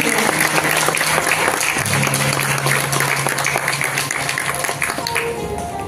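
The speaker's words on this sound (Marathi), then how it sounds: "तुमच्यासाठीच्या जोरदार टाळ्या मी आधीच वाजवून घेते." Applause from an audience welcoming a music duo onto a stage at a live event, a dense, loud wash of clapping that stays strong throughout and eases slightly near the end.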